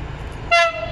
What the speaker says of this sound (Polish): Będzie trąbił, na pewno.